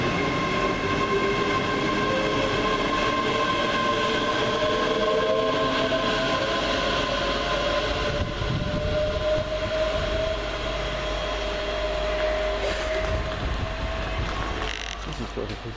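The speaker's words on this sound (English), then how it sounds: "There goes that train." A train passes Linlithgow station in winter, a long steady rumble of rolling wheels with faint tonal squeal, heard from the platform at moderate distance with a few low voices nearby.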